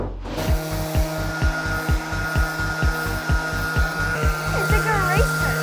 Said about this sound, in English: You work on sanding that.